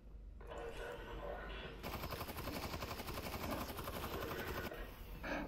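Sustained rapid gunfire from enemies firing at the player in Half-Life: Alyx at a construction site, a dense automatic burst that starts after a short lead-in and continues loud for several seconds before easing near the end.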